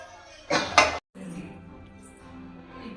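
A metal lid goes onto a cooking pan on a switched-off stove after tomato egg fry is made, giving two quick clattering clinks close by, then a soft settle as a voice talks over the kitchen.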